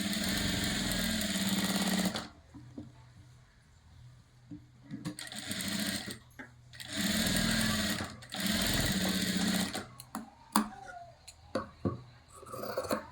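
A sewing machine stitches a size 40 katori blouse in loud, close bursts of rapid mechanical whirring, separated by quiet pauses and small clicks of fabric handling.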